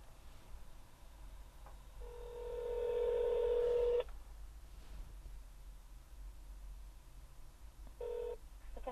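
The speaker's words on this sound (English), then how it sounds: "Let's make a phone call to Satechi." Touch-tone dialing beeps from a phone placing a call through a Satechi Soundfly Bluetooth car speakerphone: a long sustained tone burst, then a shorter one near the end, loud and clear over a faint background hum.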